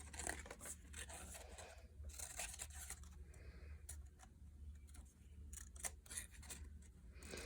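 Scissors snip through paper while cutting out an M shape for an art craft, giving repeated close, crisp cuts and rustles at a steady working pace, with no talking.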